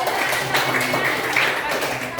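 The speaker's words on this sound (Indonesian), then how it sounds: "Kasih tepuk tangan dulu untuk temannya" Classroom applause for a classmate, a steady patter of hand clapping from a group of students, fairly close, with faint voices underneath.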